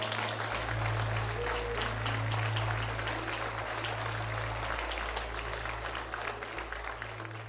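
Church congregation clapping during a sermon, a dense patter of hands over a low steady hum, with faint voices and tones underneath, fading slightly toward the end.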